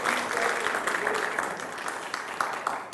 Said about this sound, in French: maximum d'applaudissements pour les Qui vont revenir